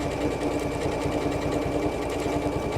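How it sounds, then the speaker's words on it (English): A sewing machine runs steadily, stitching a decorative pattern while the fabric rotates around a pivot pin to form a perfect circle. Its fast, even mechanical chatter is close and continuous, with no talking. "it's sewing that decorative stitch"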